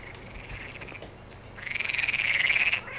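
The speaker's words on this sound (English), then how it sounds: "Listen to the frogs." Frogs croak in Farming Simulator 2015, starting as a faint chorus and then swelling into a louder run of rapid, rhythmic croaks before fading out briefly near the end.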